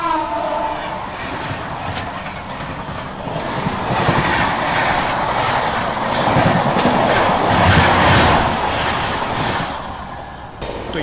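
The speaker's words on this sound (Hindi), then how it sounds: "ये पता नहीं कौन सी ट्रेन अभी क्रॉस हुई" From aboard the New Delhi–Ranchi Rajdhani Express, another train rushes past close by, a loud sustained roar with rhythmic clattering wheels that swells in the middle and fades near the end.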